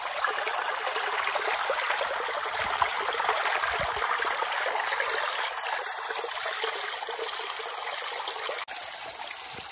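A Sierra Nevada creek spills over a small waterfall, producing a constant close hiss and rush of flowing water that stays steady throughout, with no voices.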